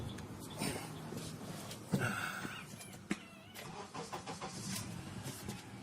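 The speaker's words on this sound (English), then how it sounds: "Go start the vehicle." A car engine cranks and starts after a portable jump starter is connected to a dead battery. A few faint clicks and thumps lead into a sharp start, followed by a low, uneven idle, heard quietly and fairly close.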